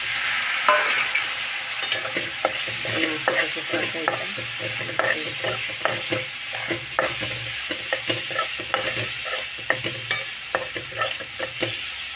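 Red chilli powder, garam masala and turmeric fry in hot oil with browned onion for a Malvani curry, giving a steady close sizzle broken by frequent sharp stirring clinks and scrapes, with no voices.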